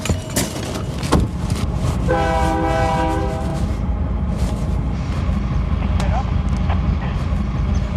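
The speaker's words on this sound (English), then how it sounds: "This is the train that's coming in from Nogales right now." A freight train arriving from Nogales blares its horn with a sustained harmonic tone while heavy rail cars rumble continuously nearby, with scattered clanks and squeals over the noise.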